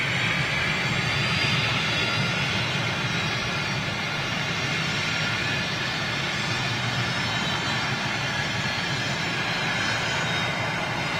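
Avro RJ jet airliner with Honeywell engines passing low overhead near London City, a loud, steady broadband jet roar that holds throughout without a break.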